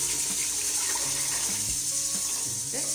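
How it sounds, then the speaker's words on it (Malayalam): Water runs into a pot for biryani rice, a steady close splashing stream with faint clinks and short tonal sounds from the pot underneath. "അതിന് അരിൻ്റെ അത്ര 2 പാത്രം വെള്ളം ഒഴിക്കും."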